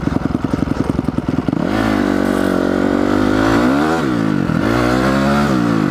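A motorcycle engine idles in a fast putter, then revs up loud and close, holding a high drone with a couple of dips and surges.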